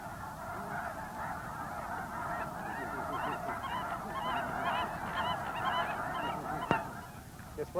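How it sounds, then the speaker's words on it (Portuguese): A flock of migrating geese bound for California honks continuously while resting and grazing, a dense overlapping chorus of many calls with a few sharper individual honks near the end. "Mesmo para os gansos cujo destino é a Califórnia, agora não há pressa."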